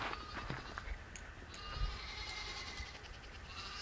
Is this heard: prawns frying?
no